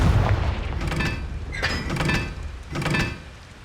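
Confringo blasting curse detonating in Hogwarts Legacy, three sharp booming blasts spaced about a second apart, each with a bright crackling burst over a deep thud, loud and close.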